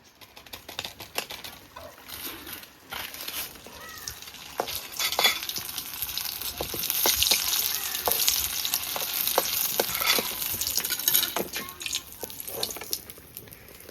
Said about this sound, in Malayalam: ആദ്യം നമ്മളിത് പൊരിക്കാണ്